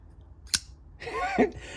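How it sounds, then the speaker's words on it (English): A Terzuola ATCF automatic folding knife snapping open, giving a sharp metallic click followed by a brief ratchety, zipper-like zing, close and fairly quiet in a calm room. "Listen to the action on it. It's got a unique sound that it makes, almost like a zipper."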